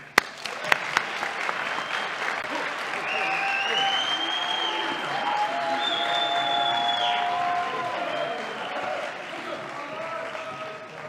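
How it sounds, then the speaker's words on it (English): An audience at an awards ceremony applauds the teachers, a sustained wash of clapping that swells after a few sharp opening claps and holds steadily, with scattered cheers and whistles over it. "Give a nice round of applause for the teachers."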